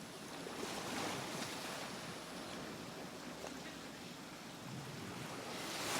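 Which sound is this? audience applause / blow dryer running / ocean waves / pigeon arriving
ocean waves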